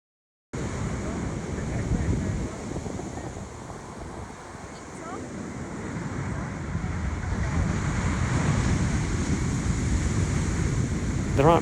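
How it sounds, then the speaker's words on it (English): Big ocean waves roll and crash against the rocky shore near a headland by Porto, a steady broad roar of surf with strong wind buffeting the microphone, swelling louder toward the end. "and you get the monster waves."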